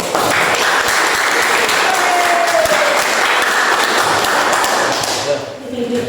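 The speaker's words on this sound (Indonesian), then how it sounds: "Dan tepuk tangan untuk kalian" Students in a mathematics classroom clap together in a steady, loud patter that lasts throughout and fades slightly at the very end.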